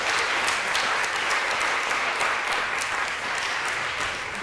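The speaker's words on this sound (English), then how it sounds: "I'd like to give him a big clap" An audience at a GSA/ASGS mentoring conference gives sustained applause for a speaker, a steady wash of many hands clapping that fills the room and fades slightly at the end.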